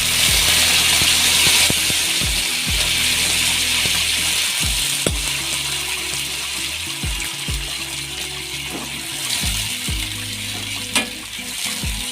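Sizzling tempering hisses loudly in a pan for black-eyed pea sambar, a steady fry with stirring clinks and low knocks scattered throughout.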